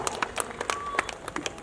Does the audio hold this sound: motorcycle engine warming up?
no